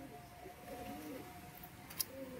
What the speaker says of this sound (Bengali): তো এই হচ্ছে পায়রা দুটো